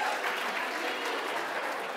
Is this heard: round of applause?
yes